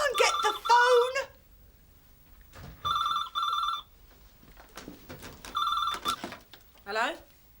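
A telephone rings in a British sitcom home, two distinct warbling trill bursts spaced a few seconds apart, with people talking and laughing around them.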